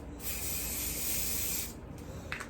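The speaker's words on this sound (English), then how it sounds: "And you wanna fold it a couple inches away, and you spray it to the back also." A long steady hiss of Wonder Lace Bond wig adhesive spray held for about a second and a half close by, followed by a few short rustling sounds.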